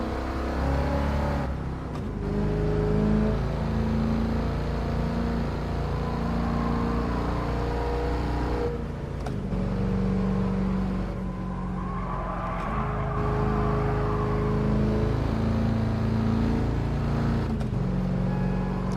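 A 1978 Pontiac Trans Am V8 in Gran Turismo Sport rumbles and revs continuously, loud and close, with throttle swells, brief gear-change dips and some tire noise.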